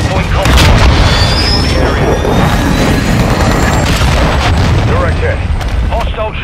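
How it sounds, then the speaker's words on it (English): A cruise missile explodes in Call of Duty: Modern Warfare II Hardpoint play, a deep, loud, rolling boom with a dense rumble that fills the whole stretch, as battle noise rages up close. "Cruise missile away."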